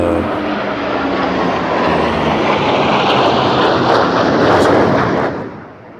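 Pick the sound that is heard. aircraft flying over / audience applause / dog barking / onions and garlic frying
aircraft flying over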